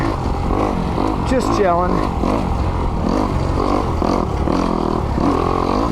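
A 2021 Kawasaki KX 250X four-stroke dirt bike engine rides along, its pitch climbing and dipping as the throttle opens and closes, loud and close under a rider's voice.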